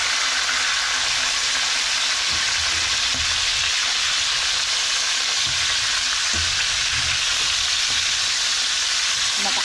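Loud, steady sizzling and crackling of lipti fish frying in hot oil in a pan, continuous throughout with no voices.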